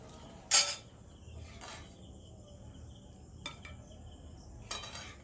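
A metal kadai of egg korma lifted off the stove: a sharp metallic clank up close, followed by a few softer scrapes and knocks spread across a quiet kitchen background, with no talking.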